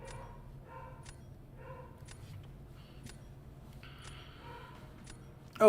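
A pet dog barks several times in short separated bursts, faint and somewhat distant against a steady low background hum.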